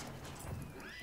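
A horse neighs briefly in Battlefield 1 over a busy background of clopping hooves and battle noise, fairly faint and short.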